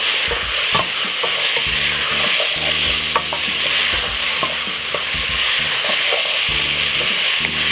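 Potato soup ingredients with pepper and mixed herbs stirred in a hot pot over medium heat, a loud continuous sizzle with the steady scraping rhythm of a spoon, close by.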